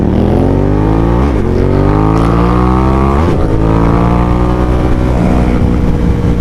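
Cruiser motorcycle engine heard while riding, a loud steady drone with gear-shift dips and pitch climbs as it accelerates, continuous and close with no talking.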